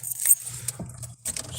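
A bunch of car keys jangles close up in a few quick metallic shakes, fairly quiet, with faint outdoor background.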